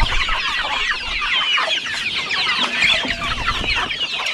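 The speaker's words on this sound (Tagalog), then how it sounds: "Pag andun tayo sa ating mga alagang manok, maingay din." Chickens clucking steadily, a busy flock heard close up with overlapping bird calls and no talking.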